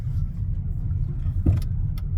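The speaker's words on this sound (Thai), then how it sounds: "รถติดแล้วพี่น้องรถติดแล้ว" Cars sit in a traffic jam, giving a steady low engine rumble with a faint short knock partway through and no talking.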